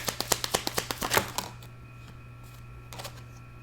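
A deck of tarot cards is shuffled up close: a quick run of about a dozen sharp, evenly spaced snapping taps builds into a brief riffle, then near quiet and a last small flurry of card noise.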